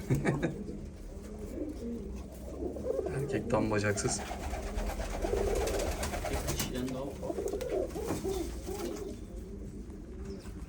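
Fancy pigeons, among them balloon and Bukhara breeds, coo in a loft, with repeated soft throaty calls close by under someone talking and laughing.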